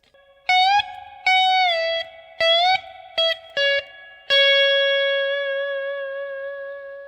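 An electric slide guitar with distortion and light echo plays the opening lick of a song: several short gliding notes in quick succession, then a long held note that slowly fades.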